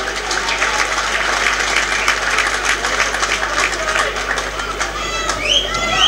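Spectators at a rugby match in Tyrosse applaud a substitution, steady crowd clapping under a commentator's voice, with birds chirping briefly near the end.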